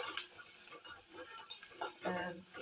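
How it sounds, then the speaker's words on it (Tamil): Onions sizzle softly in a pan with salt and asafoetida for bisibelebath, with steady frying crackle, and a spoon scrapes and stirs now and then. No one speaks. "வெங்காயம் வதங்கிட்டு இருக்கு"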